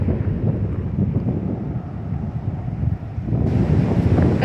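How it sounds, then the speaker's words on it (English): Strong storm wind buffets the microphone in a steady, loud roar with gusty surges, rising harder near the end, with no talking. "Very windy."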